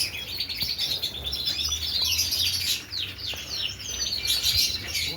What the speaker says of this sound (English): Got loads of them tree sparrows in there.